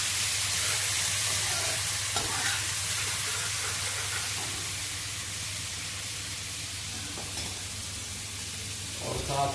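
Ginger garlic paste sizzles loudly in a kadhai while being stirred, a steady close frying hiss with scraping spoon strokes through it, cooking for Punjabi kadhi pakora.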